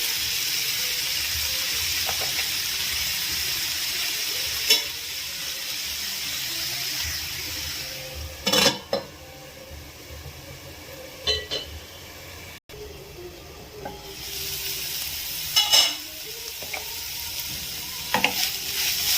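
A rice mixture for a lunchbox dish cooking in a pan, a continuous sizzle broken by several sharp scraping stirs and clanks of a spoon, with a brief quiet gap midway.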